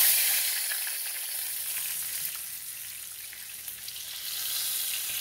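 Red snapper fries in a hot skillet on a stovetop, giving a steady, fairly close sizzle with a bright crackling hiss that swells slightly toward the end, with no talking.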